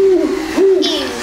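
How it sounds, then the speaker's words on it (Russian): A toad at the Ontario Science Centre in Toronto gives short wavering hoots much like an owl's call, close and clear in an indoor setting, with a brief higher squeak near the end. "Ого, жаба. А делает как будто сова."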